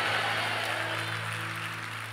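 Church congregation at a Portuguese-language worship service shouting glory to God, a broad burst of voices and applause that starts loud and slowly fades over about two seconds.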